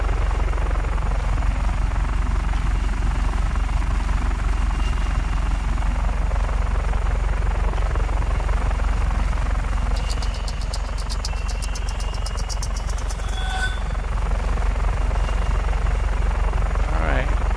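Helicopter with a Bavarium protective shield flying in Just Cause 3: a loud, steady rotor drone with a slowly wavering engine pitch, close and continuous throughout.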